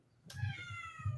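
A house cat gives a single drawn-out meow indoors, fairly faint and close, with a low rumble of background noise beneath it.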